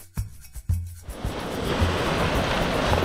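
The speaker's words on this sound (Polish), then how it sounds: "Przed nami, słuchajcie, ocean." Ocean surf on a sandy beach at Santa Maria on Sal, Cape Verde, rolling in as a steady, loud wash after a few brief knocks and thumps at the start.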